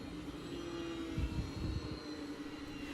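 An RC airplane flies with a steady engine drone heard from its nose camera, faint and even, with a few low rumbling bumps midway.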